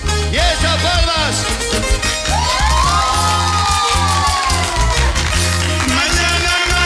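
A live concert audience at a 2003 show claps and cheers under loud music, with shouts and whoops riding over a driving, rhythmic beat that continues without a break.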